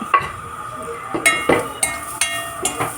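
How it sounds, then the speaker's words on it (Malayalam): Chopped garlic hitting a hot pan, a quiet sizzle punctuated by several sharp stirring clinks of a utensil against the pan over a few seconds. "ചെറുതായി അരിഞ്ഞ വെളുത്തുള്ളി ചേർത്ത് കൊടുക്കാം"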